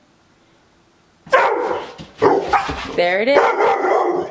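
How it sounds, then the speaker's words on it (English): A dog barks close and loud several times in quick succession, with a whine mixed in, right after a person speaks briefly. "He's gonna bark."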